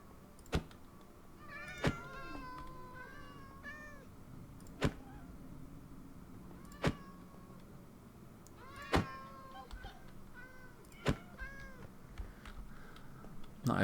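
Cats in the Minecraft video game meow repeatedly in short harmonic calls scattered across the stretch, with sharp thunk-like clicks between them over a low steady game background.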